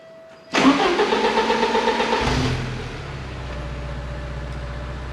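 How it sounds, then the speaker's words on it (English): A 1987 Porsche 924S fires up from cold with a sharp starter crank and catch, roaring loudly for about two seconds before settling into a steady, lower rumbling idle, close by and with no talking. "Let's do a cold start right now."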